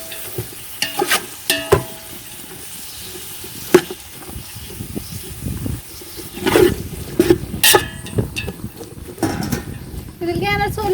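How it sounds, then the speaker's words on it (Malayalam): One kilo of sliced onions, with green chillies, stirred and frying in a pot for a village-style chicken dum biryani: scraping stirs and clinks over a steady low sizzle, with a voice talking through parts. "ഞാനൊരു 1 കിലോ സവാള അരിഞ്ഞ് വെച്ചത് ഇട്ട് കൊടുക്കണം"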